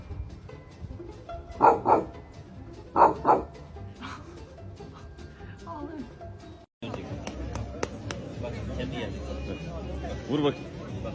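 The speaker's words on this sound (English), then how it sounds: "When your dog barks from both ends." Dog barking in a short series of loud, close barks with a few yips, followed by a noisier stretch with people talking in the background.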